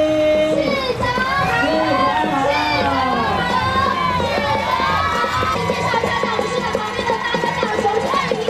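A large crowd at the live opening gala of a festival in Kaohsiung cheers and shouts continuously. High voices, some of them children, rise and fall throughout, and the noise stays loud and dense for the whole stretch.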